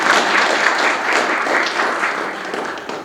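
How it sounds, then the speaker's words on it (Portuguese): An audience at a talk gives a round of applause, steady dense clapping lasting about three seconds with no speech over it. "Esse, sim, merece uma grande salva de palmas"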